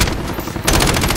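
Rapid automatic gunfire from an enemy in a shooter game, a dense burst of close, loud shots that breaks briefly and then resumes in a fast volley.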